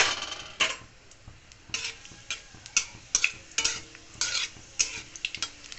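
One dried chili and black cumin seeds sizzle softly in hot oil in a pan, overlaid by irregular scraping and clinking of a stirring utensil.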